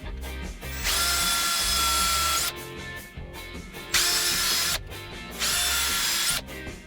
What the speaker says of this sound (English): I start with a small drill bit, kind of as a pilot.